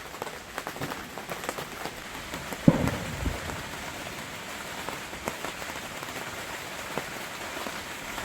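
Steady heavy rain drums on the roof of an inflatable air tent, dense patter throughout with scattered louder drops and one sharp tap near the middle, no voices.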